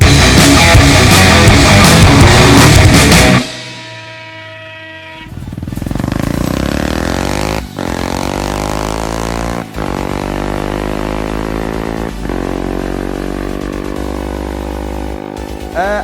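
A 2023 Segway Powersports Villain supersport UTV engine loudly revving, then dropping to a low idle before rising into a steady high drone with several brief dips, close and alone.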